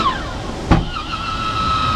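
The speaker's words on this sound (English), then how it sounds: "You have this beautiful max fan right here." A MaxxFan roof vent fan in a 2022 Winnebago Travato 59GL camper built on a Ram Promaster van clicks on, then settles into a steady whirring hum close by.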